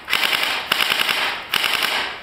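A toy NXT drone gun firing in burst mode, three short rattling bursts of rapid mechanical shots, each lasting about half a second with brief gaps, close and fairly loud with no talk.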